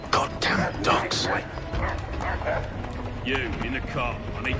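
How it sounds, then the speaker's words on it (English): Dogs bark and yelp in an American Revolution-era Assassin's Creed 3 scene, several short sharp barks mixed with hoofbeat-like clatter and shouting voices in a busy, noisy mix. "Goddamn dogs."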